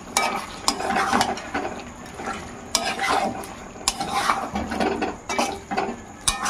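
Potato slices and chicken skin fry in a pan, with a steady crackling sizzle broken by repeated scraping, stirring clatters of a utensil against the metal, close and moderately loud.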